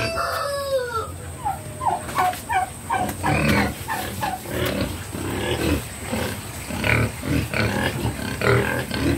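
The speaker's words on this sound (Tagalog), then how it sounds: "Mga baboy. Nag-isang baboy." Pigs grunting and squealing amid a farmyard din, with a rooster crowing at the start and hens clucking throughout, steady and moderately loud.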